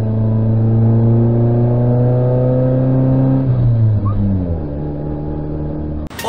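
A car engine holds a steady, loud rev with strong even harmonics, then drops in pitch about halfway through as the revs fall, ending with a brief clunk; no one speaks.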